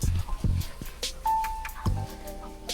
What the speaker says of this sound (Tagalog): Doorbell ng doorbell